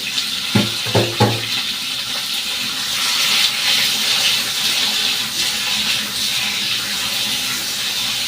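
Cooked rice is drained in a kitchen, a steady broad rush of poured water running for several seconds after a few brief clunks of the pot at the start.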